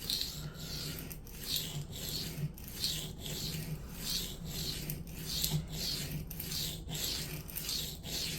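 A knife sharpened freehand on a coarse Atoma 140 diamond plate with firm pressure gives steady, rhythmic rasping strokes, each about half a second long. The strokes are close and alone, with no voices.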